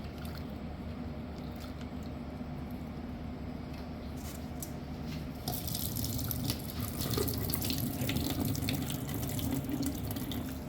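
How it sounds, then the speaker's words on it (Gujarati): Yellow moong dal is washed in water in a kitchen, with steady running and sloshing water that grows louder and splashier about halfway through. "આ પાછી ધોવાની છે દાળ. આ દાળને 2-3 વાર ધોવી પડે."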